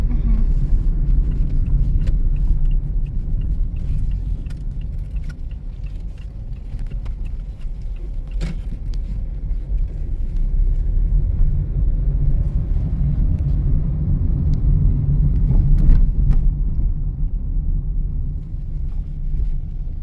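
Car traffic passing on a street in Cyprus near a beach hotel, a steady close rumble of engines and tyres with wind buffeting the microphone, swelling slightly as vehicles go by.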